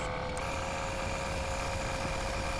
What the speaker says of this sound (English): I am going to quickly flick the wash over this because it is filthy.